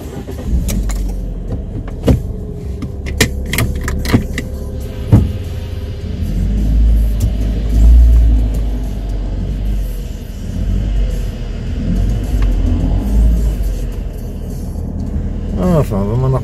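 A car rumbles with a low, steady drone as it drives on Madeira, with occasional clicks and thumps from the cabin, and people speak over the engine noise.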